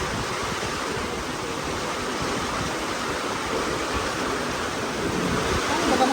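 Heavy rain and strong wind sweep across a rural farm, a dense, steady roar of downpour that holds constant and swells slightly louder toward the end, with no clear voices over it.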